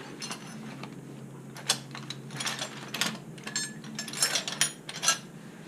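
A ratchet socket wrench clicks in quick irregular bursts while working on the rear wheel of a Yamaha Super Tenere motorcycle, close and fairly faint, with metallic tool clinks between the ratcheting runs.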